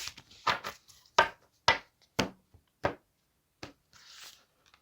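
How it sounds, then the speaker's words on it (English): A deck of playing cards shuffled by hand, giving a series of sharp riffling bursts with short pauses between them, close and fairly loud with no talking. "I do just like to shuffle on camera so that you guys can see things are shuffled through."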